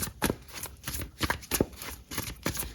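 A deck of tarot cards is shuffled up close, a rhythmic run of soft riffling flaps and taps repeating several times without talk.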